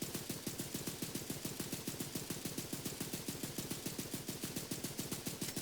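Automatic gun in a video game emptying a full magazine in one long, steady burst of rapid evenly spaced shots, loud and close, with no talking.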